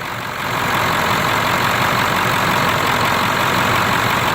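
A 1999 Ford F350 utility truck with a 7.3-liter diesel engine idles steadily nearby, a dense continuous rumble with a clattering texture and no talk over it.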